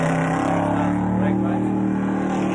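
A Ford XY Falcon drag car roars at full throttle with a loud, continuous engine drone and a deep harmonic tone, while a commentator talks over it.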